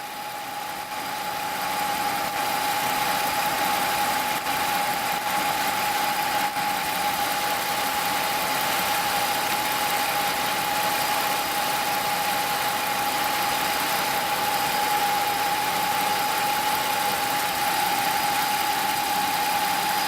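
A 2000 Mercedes CL600 with its V12 engine idling, a smooth, steady hum with a constant whine over it, heard close and alone without talk.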